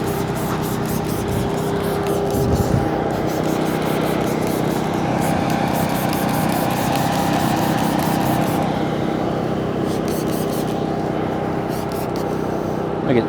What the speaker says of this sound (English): Then I'm gonna go with BDE here, and just spray it on. On the lower panels.